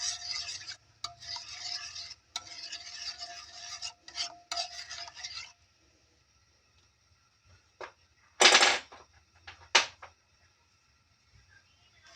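A spoon stirring brown sugar into orange chicken sauce in a pan, bursts of scraping and rubbing strokes in the first half, then quiet gaps broken by a few sharp scrapes and clinks.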